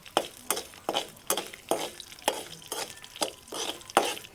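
Mustard seeds and cut Byadgi chillies frying in a pan for tomato chutney, with rhythmic stirring scrapes about twice a second over a soft sizzle, close and moderately quiet.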